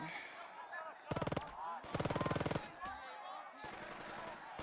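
Machine gun fire in the tactical war game Burden of Command, heard as three rapid bursts, the middle one longest, set against quieter battle sounds and distant shots.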